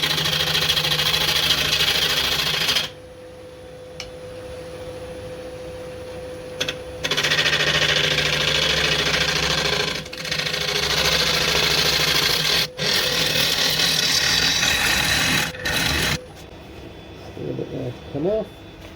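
A woodturning tool chatters and bounces against a spinning oak platter on a lathe, giving a loud, rough, continuous cutting drone broken by a few short pauses as the tool lifts off the wood.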